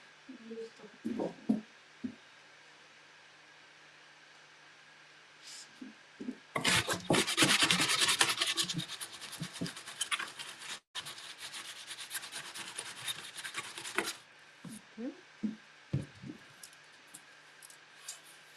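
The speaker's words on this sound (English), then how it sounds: "I want to sand on the inside, not on the outside of the box." A sander works inside a wooden box, giving a loud, steady rasping drone for several seconds. Short scrapes and handling noises come before and after, and someone talks during the quieter stretches.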